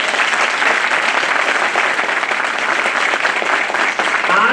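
Loud, sustained applause from a large audience of advocates at a Bar Council of Delhi enrolment ceremony, dense steady clapping that fills the room without pause.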